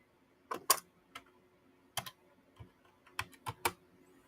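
Keys on a computer keyboard clatter in short, uneven bursts of taps with small pauses between, close and fairly quiet, without any talk.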